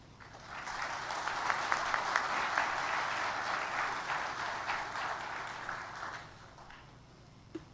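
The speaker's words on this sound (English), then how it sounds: "I think this togetherness deserves a big round of applause." An audience claps at the inauguration ceremony of the Himalayan Travel Mart 2019 tourism fair, a steady round of applause swelling quickly, holding for several seconds, then fading out with a last stray clap.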